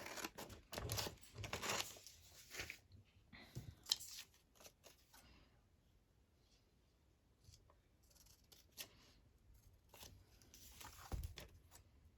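Scissors cut out paper tickets: a cluster of crisp snips and paper rustles up close, then a quiet pause, then a few more scattered cuts, soft and near.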